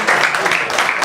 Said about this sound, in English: would you permit a little applause for the Beagle?